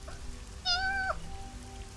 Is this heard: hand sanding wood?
no